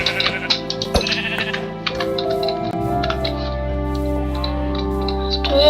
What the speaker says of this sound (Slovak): Tu je ešte ovca.